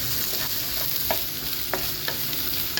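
Onions fry for a chicken curry in a close, continuous sizzle while a spoon stirs and scrapes the pan in sporadic knocks; no voices.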